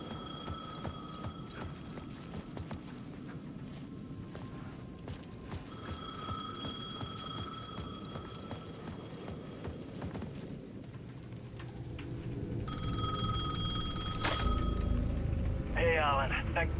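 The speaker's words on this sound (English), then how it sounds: "The payphone at the edge of the plaza was ringing again." A payphone in the Alan Wake 2 video game rings in repeated bursts with pauses between, over a steady low background rumble, with a brief electronic warble near the end.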